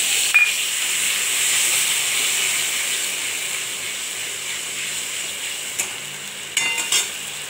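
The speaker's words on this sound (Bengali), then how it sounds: "এবার একটু জল দিয়ে দিচ্ছি" Steady hiss and sizzle of egg curry cooking in a pan as water is poured in, a continuous bright steam wash with a few soft stirring knocks near the end and no talking.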